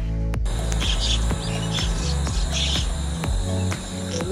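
A mynah gives a run of bright, repeated chirping calls, close and steady, with a low background hum and no talking.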